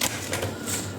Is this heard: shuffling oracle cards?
yes